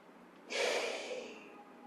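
A single long, audible exhale during a yoga downward dog pose, a soft breathy rush rising suddenly and slowly fading against a quiet background.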